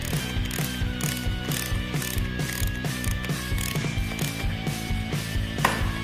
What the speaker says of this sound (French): Elles sont fixées avec un écrou qui doit aussi être serré au bon couple.